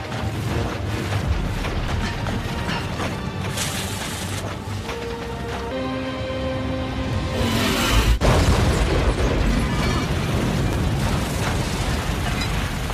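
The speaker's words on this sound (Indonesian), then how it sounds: "Samsul dengan berani mengorbankan diri dengan meledakkan dirinya tepat di saat makhluk itu sudah mulai mendekat" A movie explosion as a soldier blows himself up beside an approaching monster, a dense, loud roaring blast with a heavy boom peaking midway, layered with rumbling debris and dramatic score.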